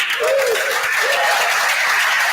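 An audience applauds for a long-running livestream's 300th episode celebration, a steady wash of clapping with a brief whoop or cheer near the start, sustained and fairly loud throughout.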